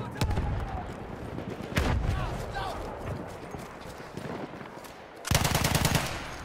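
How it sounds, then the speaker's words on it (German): Bursts of rapid machine gun fire rattle through a Battlefield 1 battle, with sharp volleys at the start, in the middle and a louder stretch near the end, amid other battle noise and a voice calling out. "Maschinengewehr gesichtet!"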